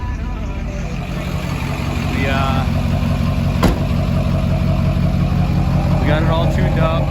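A built Duramax diesel pickup, tuned for its turbo and injectors, runs with a loud, constant low rumble that swells slightly after the first couple of seconds, with a brief sharp click partway through.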